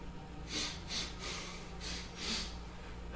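Several short, breathy sniffs taken in a quick uneven series, close and fairly quiet over a low steady hum, as a person noses a glass of aged red beer; nobody speaks.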